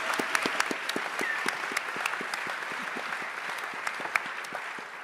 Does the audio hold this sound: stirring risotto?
no